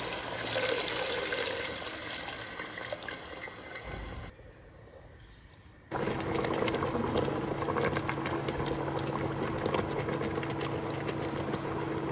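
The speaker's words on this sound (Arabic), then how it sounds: "وراح أضيف لها الماء وأعوفها تستوي براحتها" Water poured into a pot of kabsa in a home kitchen, heard as a steady rushing pour with a brief lull partway through before the flow resumes even louder.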